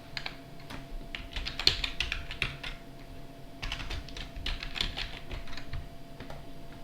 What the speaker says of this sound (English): then you just type Podman -compose, all lowercase